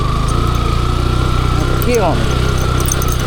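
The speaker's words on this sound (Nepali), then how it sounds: "उफ पावर पनि भएको यो बाइकको" A motorcycle engine runs steadily close by, a constant low throbbing hum with a brief revving sweep partway through, while people talk over it.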